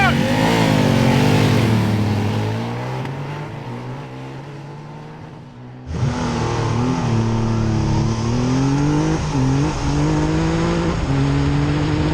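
A Triumph Rocket and a Ducati Diavel launch hard off the line together, engines revving up through rising pitch sweeps, dropping briefly, then surging again loud and close.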